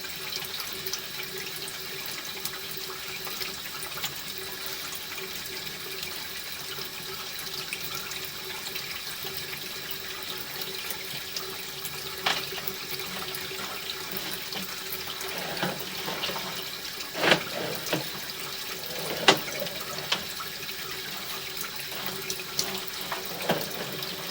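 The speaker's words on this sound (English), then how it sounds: "I'm going to have to let the water run for a minute" A household faucet left running with hot, slightly steaming water, giving a steady close hiss and trickle that continues for over twenty seconds, marked by a few brief splashes and knocks partway through.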